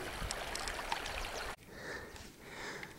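Small snowmelt streams trickle across alpine tundra on a mountain pass trail, a steady close watery rush that breaks off and then resumes as a softer, more distant trickle.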